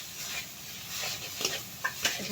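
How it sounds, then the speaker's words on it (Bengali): Grated coconut is stirred into cooked taro paste in a pan for a vegetarian taro-leaf dish, making a soft, close sizzle with a few faint scraping strokes over a couple of seconds and no voices. "নারকেল কোড়া দিয়ে খুব ভালোভাবে কচুর আটার সঙ্গে নেড়ে চেড়ে মিশিয়ে নিচ্ছি"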